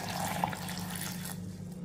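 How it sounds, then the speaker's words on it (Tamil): Water poured into a mixer jar holding mint, curry leaves, ginger and cucumber makes a soft, steady trickling splash that runs for a moment, quiet and close. "இப்போ நம்ம தண்ணி ஊற்றிக்கிடுவோம்."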